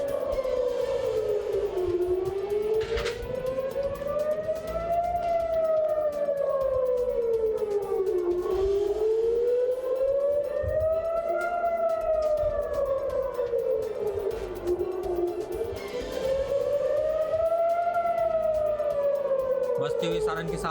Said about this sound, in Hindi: इस सायरन को आप सुनिए जो लगातार बजते हुए दिखाई दे रहे हैं।